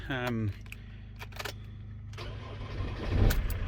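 A car with an intermittent starting fault cranks with a rapid whine, then catches and settles into a low rumble that swells toward the end.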